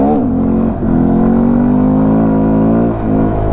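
Honda Grom motorcycle accelerating hard in second gear, a loud close engine drone holding steady pitch with brief dips at shifts, a voice speaking faintly.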